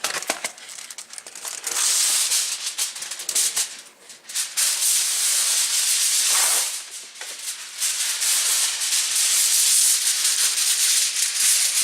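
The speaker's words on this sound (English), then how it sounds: "I have to get another couple pieces of aluminum foil, and you can use pretty much about any aluminum foil" Aluminum foil crinkles and crumples loudly and close up as it is handled and pressed over a rack of ribs, a continuous rustling with brief dips in intensity.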